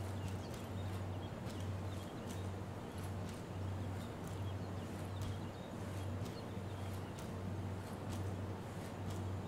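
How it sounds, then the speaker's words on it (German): Steady footsteps in the tactical shooter Ground Branch, a continuous run of regular low thuds pacing evenly throughout, moderately loud against a constant background. "Ich höre die ganze Zeit Schritte."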